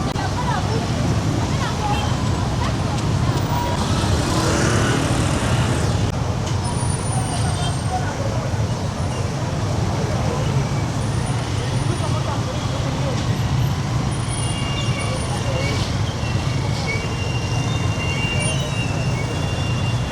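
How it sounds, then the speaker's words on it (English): Dense street traffic crawls through Kampala on a busy market Monday, a steady roar of idling and creeping vehicles with babbling crowd voices mixed throughout and no clear single pass-by. "That simply means traffic jam everywhere."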